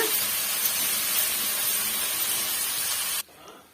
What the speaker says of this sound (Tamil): அந்த பச்சை வாடை போகிற வரைக்கும் நல்லா வந்து வதக்கி விட்டுக்குங்க